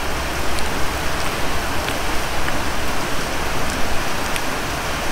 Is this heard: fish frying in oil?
no